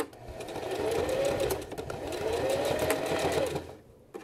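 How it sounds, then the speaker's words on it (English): A sewing machine backstitching through several fabric layers, its steady motor hum and rapid needle ticking rising and falling in two close, even runs before stopping. "I'm going to backstitch right now."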